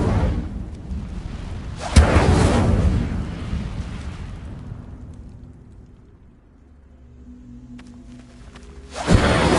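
Incendio fire spell cast in Hogwarts Legacy, a sharp loud burst of roaring flame that slowly fades over several seconds, then another sudden whooshing blast at the end.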